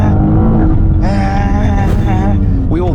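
A person's voice imitates a car being driven, with humming engine-like tones rising and falling in pitch over several seconds, close and fairly loud.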